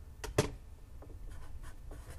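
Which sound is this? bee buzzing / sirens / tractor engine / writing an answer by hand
writing an answer by hand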